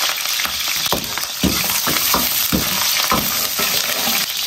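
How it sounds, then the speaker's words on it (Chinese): Scallion, ginger and garlic stir-fry in plenty of hot oil in a wok, giving a loud continuous sizzle broken by regular scraping thumps of the spatula, close up and with no voices. "葱姜蒜爆香"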